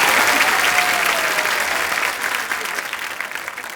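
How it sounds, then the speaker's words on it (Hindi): A studio audience on The Kapil Sharma Show, a Hindi TV comedy show, breaks into loud, dense applause that starts strong and slowly tapers off over nearly four seconds, with no talking over it. "इलियाना के लिए जोरदार तालियां"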